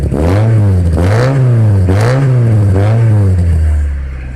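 A Maruti Baleno fitted with a custom valvetronic exhaust revs loudly and close, its engine note swelling and dropping in four or five throttle blips before settling toward idle.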